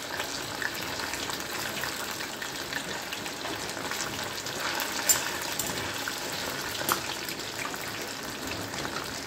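A batch of food deep fries in hot oil, a soft continuous bubbling hiss with occasional faint pops, fairly quiet and unbroken by speech.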